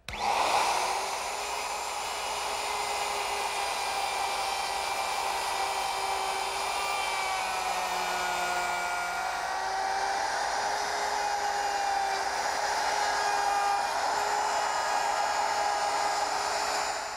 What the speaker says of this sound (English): I'm going to use my router with a collar and a straight cutting bit